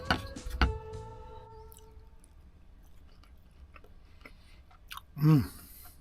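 Steak eaten inside a camper van, with a sharp knock and clatter at the start, then quiet, then a few close, soft chewing sounds near the end.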